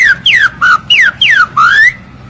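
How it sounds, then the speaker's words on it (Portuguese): Six bright, loud whistled notes of the trinca-ferro boiadeiro bird, each sweeping down or up in pitch, come in quick even succession with no other sound around them. "O canto Trinca-Ferro Boiadeiro."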